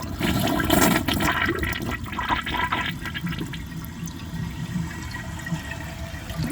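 A 2002 Kohler Gabrielle toilet, its bowl grimy with ash, flushes loudly up close with a rushing surge of water that settles into a steady swirling refill.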